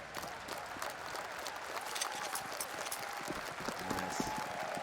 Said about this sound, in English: Bit of the cheer going on as well for Na'Vi.